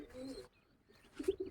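Pigeons in a rooftop pigeon loft giving soft low coos, one short call and then a fuller burst of cooing, faint and close with no talk.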